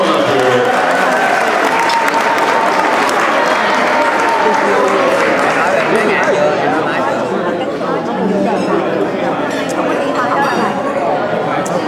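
Applause from an audience at an Asian American Thai New Year celebration, a dense steady wash of clapping mixed with crowd chatter and voices throughout, with occasional clinks.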